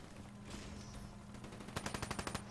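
The Weevil gun fires in Black Ops 3, a rapid burst of evenly spaced automatic shots following quieter game noise, fairly faint overall.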